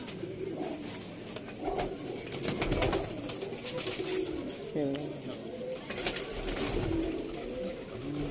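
Female pigeons in a loft coo softly in repeated low, throaty phrases, with rustling and background noise around them.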